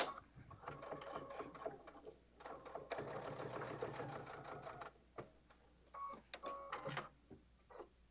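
A sewing machine runs a 3.5 mm top stitch along a messenger bag in bursts of rapid mechanical whirring, with short pauses in between. It stands close and clear, and a voice speaks faintly at times.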